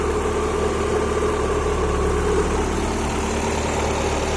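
Car engine idling steadily, close and moderately loud, with a constant ticking clatter from loud injectors over a low hum; no voices.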